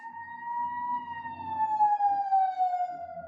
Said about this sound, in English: No, that's the ladder truck. Something's burning.